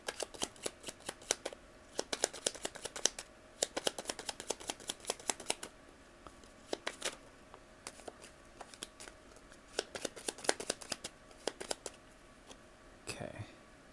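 Tarot cards are shuffled by hand at close range in repeated bursts of crisp riffling flutters with short pauses between, ending with a soft thump.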